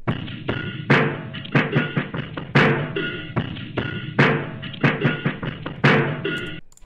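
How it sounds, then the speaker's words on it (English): A lo-fi drum break plays alone, punchy kicks and snappy snares in a steady looping groove with crisp hi-hat ticks, loud and upfront with no vocals. "So this is what the drum break sounds alone."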